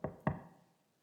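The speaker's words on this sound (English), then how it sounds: "Amu heard a knock at the door." Two sharp knocks on a door in quick succession, close and distinct, the second a little louder and ringing briefly before silence.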